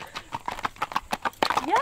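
A gaited horse's hooves beat on a driveway in quick, even clip-clops, close and distinct, ending in a short whinny-like squeal as the horse is stopped.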